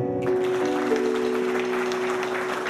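An audience claps for a singer at an event, a continuous loud patter of many hands throughout, with a sustained musical tone running beneath the clapping.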